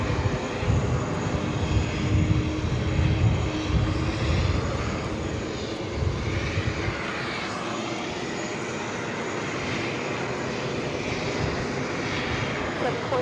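Jet airliner engines at New York's JFK airport, a loud, steady broadband roar that holds throughout and eases slightly toward the end, with no talk over it.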